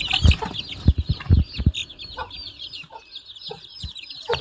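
Aseel chicken chicks cluck and cheep repeatedly at close range, with sharp irregular calls and higher peeps scattered across a farm setting, no voices.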